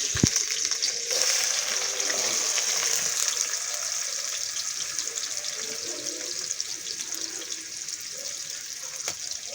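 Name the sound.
onions frying in hot oil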